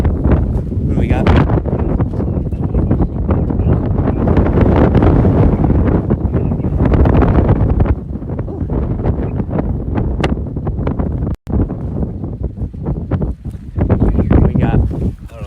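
Strong wind from a passing storm cell in Michigan or Indiana buffets the microphone with loud, gusting roars that ease and swell, while people speak over it.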